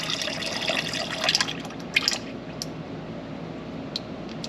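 Engine oil drips and trickles from the old-style oil filter on a Jeep JL 2.0-liter, a steady wet patter with a few louder splashes close by.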